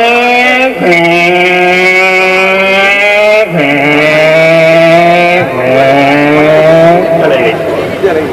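A voice imitates a motorcycle shifting through first, second and third gear, a loud, close droning engine tone that rises, drops at each shift and climbs again in three stages, with a crowd murmuring faintly behind.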